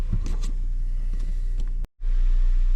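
A GMC Terrain with the 2.4 engine and a VVT solenoid fault drives on a test run, its steady low engine and road drone filling the cabin, with a brief cut partway through before the hum resumes.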